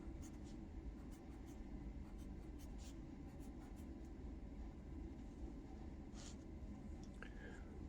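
Pen drawing boxes on paper, faint scratchy strokes in short bursts over a low steady background rumble, quiet and close.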